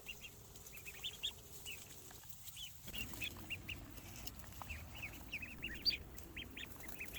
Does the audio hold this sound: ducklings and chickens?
yes